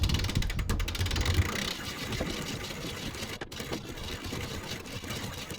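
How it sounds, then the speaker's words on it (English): Hand crank winch hoisting a screecher sail aboard a sailboat, a steady mechanical ratcheting and grinding that runs throughout at close range, heavier at the start and then continuing evenly. "I'm gonna go ahead and start bringing it up with the hand crank"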